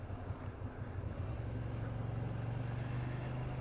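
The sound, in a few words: car overtaking another vehicle on a wide street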